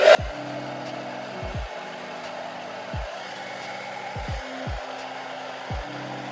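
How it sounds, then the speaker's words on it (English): A hair dryer blow-drying long hair blows with a steady whirring hum nearby, its motor pitch briefly dipping several times at irregular intervals. "I'm gonna go and quickly just blow dry a little bit."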